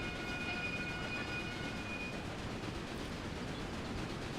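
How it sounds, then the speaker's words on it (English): A freight train passes in the video game Railway Empire with a steady, unbroken rumble of wheels and carriages and a faint high tone running through it, heard alone without talk. "As I pass my freight train."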